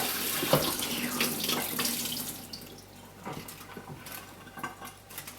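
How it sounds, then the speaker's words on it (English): Running tap water splashes over tomatoes being washed in a sink, a steady close rushing stream with shifting splashes as the fruit is turned under the flow. "Now, take the tomatoes. Cute little sweet guys. Wash them."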